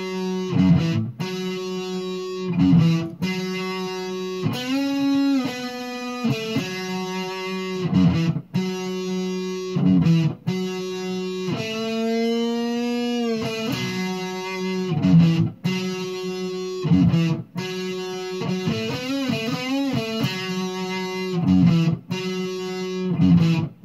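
A distorted electric guitar plays the intro of a song, with sustained, heavily overdriven notes, string bends and repeated struck phrases ringing out loud and alone.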